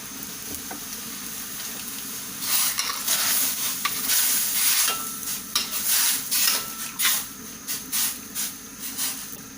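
Bubbling, sizzling pork boiling in tapai rice-wine liquid in a pot, stirred with scraping and clinking strokes that come in irregular bursts, close and fairly loud.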